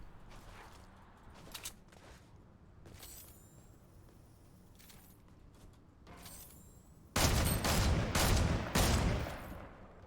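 Video game gunfire sounds as faint scattered shots and thuds at first, then a sudden loud, close volley of several shots near the end.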